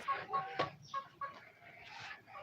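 Local free-range chickens on a farm clucking in short, repeated calls, several close birds overlapping in an irregular rhythm at a moderate level, with no talking.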